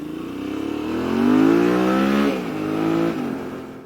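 A Suzuki V-Strom 650 motorcycle revs up under the rider on a test ride, its engine note rising, dipping at a gear change, then climbing again, close and steady.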